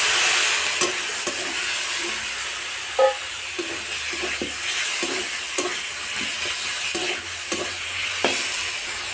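Minced meat for burgers is stirred and fried in a pan as its juices release, giving a steady close sizzle with occasional scraping and clinking from the spoon and no voices.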